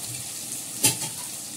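Lightly parboiled cauliflower goes into a hot pan, giving one brief, loud sizzling burst over a steady low frying hiss, with no talking.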